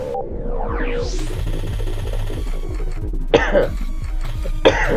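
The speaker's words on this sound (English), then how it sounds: "The cough was really just for holding that for so long." A man coughs repeatedly in a steady series of harsh, throaty bursts right up close, spread evenly over several seconds, with a louder hack near the end.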